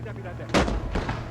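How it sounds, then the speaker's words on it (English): Heavy artillery fire in the war game Blood Red Snow lands as a loud booming blast with a rumbling tail. A softer second report follows close behind, over a low background of battle noise. "Shit, we've got heavy artillery."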